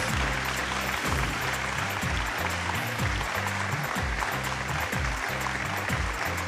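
An audience at the Sur Sangram stage show claps loudly and steadily, the dense applause running over a rhythmic, thumping music beat.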